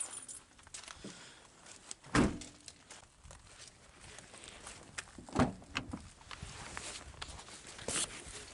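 A bunch of garage keys jangles in a few short metallic bursts among soft footsteps and thumps, fairly close but quiet, with no talking.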